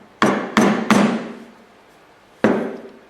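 An awl is tapped into wood to mark a center: three sharp, close knocks in quick succession, a pause, then a fourth, each ringing briefly before fading, with no talking.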